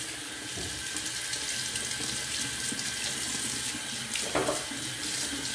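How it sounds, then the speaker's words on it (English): A water tap runs steadily into a sink to rinse off shaving soap after a shave, a close, continuous splashing hiss with a brief louder gush near the end. "All right, I'm gonna rinse this off."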